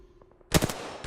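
Video game gunfire in Apex Legends, a quick burst of loud close shots followed by another sharp shot, after a brief quieter lead-in.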